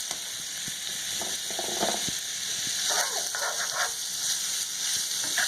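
Bacon and onion fry together in a pan, giving a steady close sizzle with scattered scraping and stirring clicks throughout, no voices.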